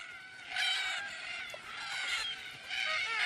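Red-tailed black cockatoos calling at a watering hole at sunset, harsh raspy squawks in several bursts from a flock, moderately near, with no talk.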